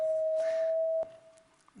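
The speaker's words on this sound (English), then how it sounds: "this is the sound of purple" A steady electronic sine-like tone from an eyeborg colour-sonification device, sounding the colour purple, holds for about a second and then fades faintly, with soft background noise and no speech.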